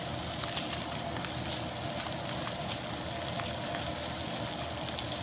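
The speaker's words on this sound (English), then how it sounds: "we're gonna go ahead and flip the steak around" Steak searing in oil in a hot pan, a dense, even sizzle, close and continuous, without talk.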